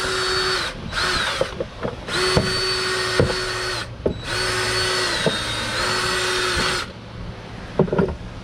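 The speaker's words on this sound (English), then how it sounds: "I'm gonna get these holes drilled out" A power drill bores out holes for an electric sway bar install, running in several whining bursts of a second or so each, separated by brief stops and clicks, close and loud with no talking.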